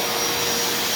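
Black & Decker vacuum cleaner running in a gym, a steady loud whooshing roar held throughout at close range, no voices.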